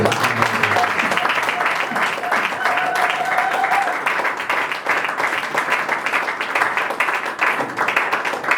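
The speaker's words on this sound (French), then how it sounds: "Acclamons Jésus." A church congregation applauds steadily and loudly throughout, dense clapping filling the space with a few voices calling out beneath it.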